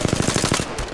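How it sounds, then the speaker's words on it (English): Rapid automatic gunfire from a firefight in the game Apex Legends, a steady burst of about eight close, loud shots in quick rhythm that fades out near the end. "Shots fired at me."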